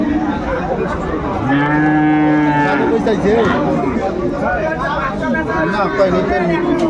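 Dairy cows at Aftabganj cattle market in Dinajpur give a loud, drawn-out moo lasting over a second, close by, amid steady crowd chatter and people talking.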